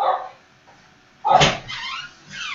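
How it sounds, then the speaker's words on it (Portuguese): A pet dog named Einstein barks at a door in a home, two or three sharp close barks after a brief quiet moment, loud and distinct with no talk over them. "meu cachorro está latindo na porta"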